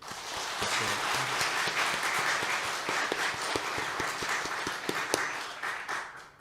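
A congregation at a Korean church graduation and commissioning service applauds the training staff, a continuous roomful of clapping with a few sharper individual claps standing out.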